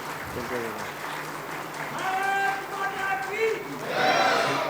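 Audience applause at an Arya Samaj provincial conference in Jammu and Kashmir, moderate clapping that swells toward the end, mixed with voices speaking and calling out over it.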